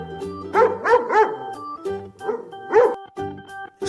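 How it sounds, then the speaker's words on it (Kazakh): A dog barking close and loud, several separate woofs and yips in an uneven rhythm across a few seconds, with brief quiet gaps between. "Ит. Иттің баласы"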